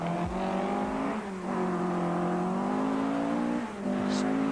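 Stig Blomqvist's Talbot Lotus rally car at the 1980 Welsh Rallysprint, its engine droning loud and near at steady high revs, dipping briefly with gear changes and lifts before pulling hard again.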